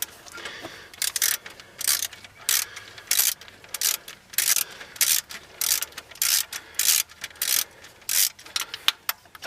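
A ratchet loosens the belt tensioner on a Toyota Tacoma engine, with a long series of quick, regular clicking bursts close by, broken by short pauses between strokes.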